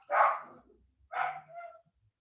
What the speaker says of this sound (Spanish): Ladra bien fuerte.